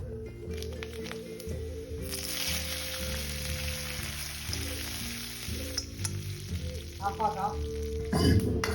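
Ghee sizzles and crackles steadily in a pan as mustard seeds pop with dried red chillies, with a brighter burst of spattering near the end over low background music.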